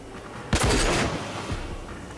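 A single loud gunshot burst in the shooter game Rage, sharp onset followed by about half a second of booming tail and a fainter second report, with no talk.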